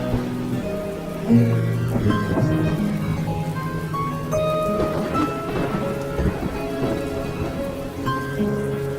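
A thunderstorm with steady rain pattering on surfaces and a rumbling roll of thunder, with a louder burst early on, under scattered musical tones and without speech.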